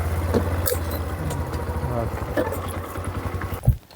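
A motorcycle engine idles with a steady low throb while people talk nearby; a brief knock sounds near the end.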